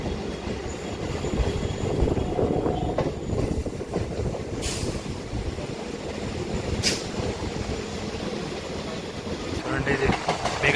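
MMTS local train running between Lingampally and Medchal, a loud continuous rumble with rhythmic wheel clatter and occasional squeals heard from inside the carriage, with some talking.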